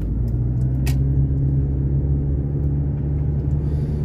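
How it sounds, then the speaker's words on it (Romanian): A city bus rumbles along a Bucharest street, a close, heavy, steady engine drone with road noise that fills the whole stretch without fading, and no one talking. "aici merge autobuzul"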